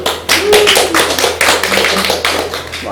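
A small group claps in a classroom, a close, loud burst of irregular overlapping hand claps lasting a few seconds with no talking.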